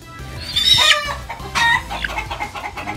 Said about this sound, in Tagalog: Pasensya na kayo dun sa dalawang stag natin, ang ingay.